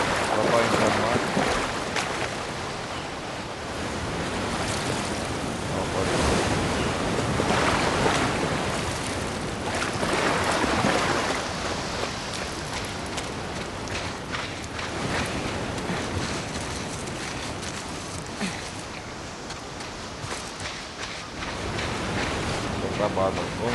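Ocean waves and wind at sea in The Last of Us Part II, a steady broadband wash of surf and gusting air running the whole time, with a voice speaking briefly over it.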